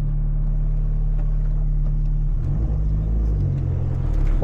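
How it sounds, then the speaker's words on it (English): A small Abarth 500 petrol engine idles while warming up, giving a steady, close, low rumble that shifts slightly in pitch partway through, with no talking. "car's already warming up."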